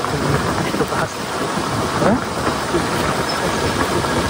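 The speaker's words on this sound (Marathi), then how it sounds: "काय इकडे पाऊस यायला लागला" Heavy rain pours down steadily in a dense wash of noise, with faint voices and a low rumble in the background.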